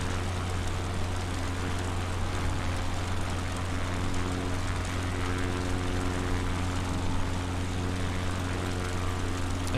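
A propeller airplane engine drones steadily and loudly without pause in a flight simulator game, an even, continuous hum with no breaks.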